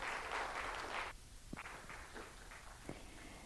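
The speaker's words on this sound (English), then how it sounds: "please give a big round of the applause to the presenters" Symposium audience applause for presenters at a fisheries and aquaculture event, a brief burst of clapping that stops after about a second, followed by a quiet room with a few scattered knocks and shuffles.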